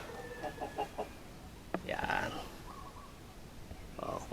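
A hen clucks softly while laying eggs in a nest at a free-range poultry area in Bauang, La Union, giving a few short clucks and one sharper squawk over steady outdoor background noise.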